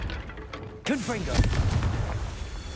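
A Confringo explosion spell is cast in the video game Hogwarts Legacy, a sudden sharp blast followed by a crackling, whooshing burst that lingers briefly, with faint game sounds before it.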